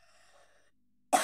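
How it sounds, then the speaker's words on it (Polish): A single sharp cough bursts out close by after a moment of faint background tones. "Przepraszam za kaszel,"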